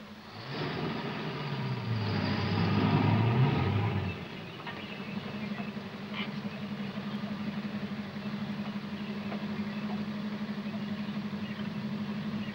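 A car engine idles with a steady low hum, rumbling a bit louder at first and then settling into an even drone with no voices.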